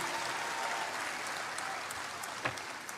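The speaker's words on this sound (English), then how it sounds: "I think that requires a round of applause for all of us." An audience at a live talk in Kathmandu claps in a steady, dense round of applause, a sustained wash of many hands from a sizeable crowd heard at some distance, with no voices over it.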